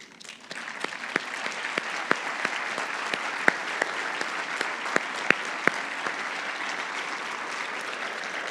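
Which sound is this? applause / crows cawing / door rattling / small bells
applause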